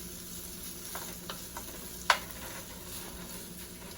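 Small cut-up sausage pieces fry in oil in a pan while being stirred. A faint, steady sizzle runs throughout, broken by a few soft scrapes and one sharp click near the middle. No one speaks.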